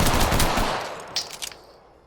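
Two P2020 pistols hip-fired together at a training dummy in a video game, a loud rapid volley of overlapping shots that thins into a few last pops and a brief metallic ring before fading.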